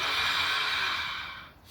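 A slow, deep inhalation during a guided breathing exercise, a steady close airy rush that gradually fades out, with no talking over it.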